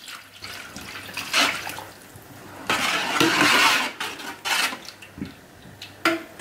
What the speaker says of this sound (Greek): Αυτή τη στιγμή εγώ θα προσθέσω 400 ml νερό.